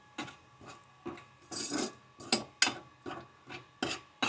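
A spoon stirs yogurt into Gujarati dahi kadhi in a pot, making about nine rhythmic scraping and swishing strokes. The strokes are close and fairly quiet, with no talking.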